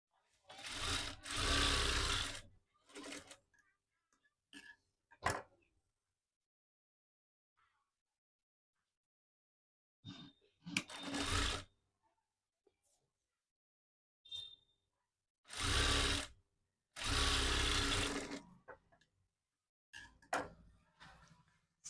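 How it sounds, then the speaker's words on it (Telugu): A sewing machine stitches two pieces of saree cloth together along the edge for a lehenga, running in several short, close, rapid bursts separated by quiet pauses. "అంచున ఈ రెండు క్లాత్ను కలిపి స్టిచ్ వేసుకోవాలి."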